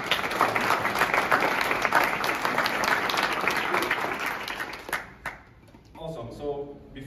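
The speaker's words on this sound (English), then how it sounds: "So please give an applause for the founder." Audience applause for the founder at a scuba diving conservation panel event, steady clapping from a crowd that fades after about five seconds, followed by a speaker beginning to talk.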